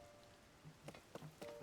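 Soft rain patters in Zelda: Tears of the Kingdom, a faint steady hiss with a few louder drops near the end, alone with no speech.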